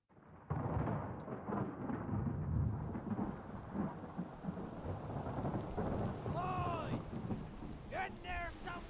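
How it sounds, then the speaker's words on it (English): A thunderstorm with rain in the game Return of the Obra Dinn: a heavy, steady rain wash with deep rumbling thunder throughout, while chirping, whistling tones come through near the end. "Storm's coming!"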